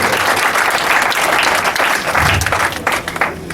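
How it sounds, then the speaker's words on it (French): A church congregation at a funeral service claps loudly and continuously, a dense close wash of applause with faint voices mixed in. "Acclamons très fort"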